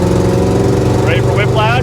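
A classic car's engine droning steadily in second gear, close and loud, with a voice talking over it near the end.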